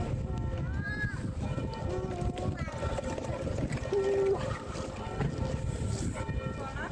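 Steady outdoor wind buffets the microphone on a city street, a continuous broadband rumble under talking voices.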